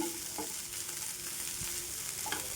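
Grated cabbage and sweet corn for masala chaat fry in a pan, a steady close sizzle with a few soft scrapes of stirring.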